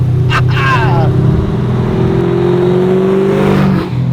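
A loud 490ci V8 engine in a 1969 Chevrolet Camaro SS revving and pulling hard, its pitch climbing steadily, with a voice speaking briefly over the roar early on.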